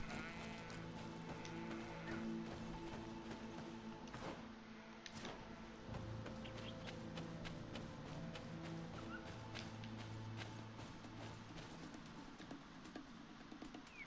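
Sheep bleating in the video game Greedfall, several calls rising over a steady layer of rain-like patter and game music, with sharp clicks and a brief break near the middle.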